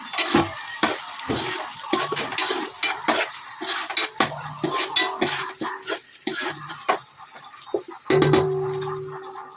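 Green chillies frying in a pan for a Muslim-style Vijayawada biryani: a close sizzle under frequent rhythmic clacks and scrapes of a ladle stirring against the metal, ending in a louder burst of frying.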